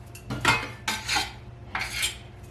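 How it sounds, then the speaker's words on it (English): A spoon scrapes and clinks against a bowl in three bursts of mixing while gnocchi dough ingredients are combined, close and fairly loud with short pauses, no talk. "And now we just mix all this together."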